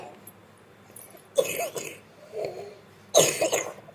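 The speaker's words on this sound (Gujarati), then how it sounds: "જો ઉધરસ આવે છે ને" A young girl coughs in two short bursts at home, the first harsh and broken, the second stronger near the end, with a quiet stretch of soft sound between them.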